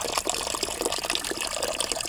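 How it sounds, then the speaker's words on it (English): Fresh water runs from a small bamboo spout at a Kyoto shrine basin at night, a close, steady trickling and splashing with no voices. "There's fresh running water."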